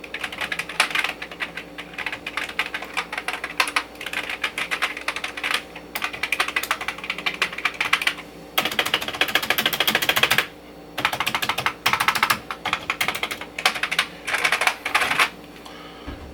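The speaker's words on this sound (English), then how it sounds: "let's go ahead and do a quick type test just so you guys can hear what this thing sounds like" Typing on an EVGA Z12 plastic membrane keyboard, a fast run of soft, muffled key presses close up, with brief pauses between bursts and no clicky switch sound.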